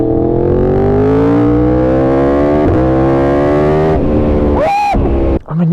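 1000cc motorcycle engine while riding, a loud continuous revving drone climbing in pitch, then dropping off with a sharp burst and pops near the end.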